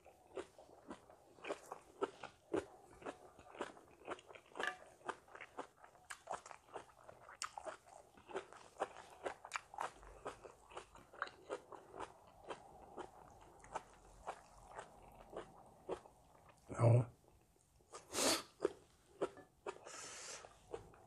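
Raw shrimp and salmon sashimi being chewed up close, with steady wet, soft crunching bites in a quick rhythm, followed near the end by a couple of louder smacks and a short breath.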